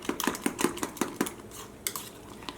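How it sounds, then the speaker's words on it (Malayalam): An egg mixture is beaten in a bowl, with a utensil clinking sharply against the sides in a quick, even rhythm of about eight strokes, then a pause and a few sparser taps. "ഇത് നന്നായിട്ട് ഇങ്ങനെ മിക്സ് ചെയ്തിട്ട് എടുക്കണം."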